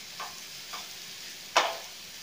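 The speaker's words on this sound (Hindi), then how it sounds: "इसे गुलाबी होने तक भूनेंगे। प्याज भुन गई है" Onion frying in a pan for paneer biryani gives a faint, soft sizzle broken by a few brief scrapes of stirring, the last one sharper and louder.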